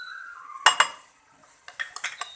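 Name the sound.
adding almonds to beaten yogurt and mixing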